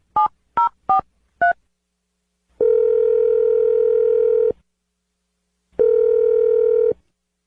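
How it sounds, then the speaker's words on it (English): A telephone dials a number with four quick keypad tones, then a steady ringback tone sounds twice in long bursts separated by silence, clear and close. "I'm dialing the phone number right now."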